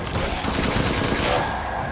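Rifle gunfire from the horror game Resident Evil Village, a dense, steady burst of shots and game noise filling the whole moment at close range.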